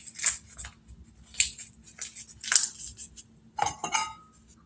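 A sheet of paper is folded up tight by hand, giving a series of crisp, close crinkles and crackles in short bursts separated by brief quiet gaps.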